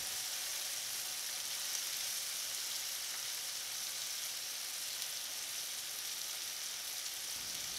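Cauliflower sabzi sizzles steadily in a hot pan as it is stirred, a dense, even hiss of frying that stays close and constant throughout with no talking.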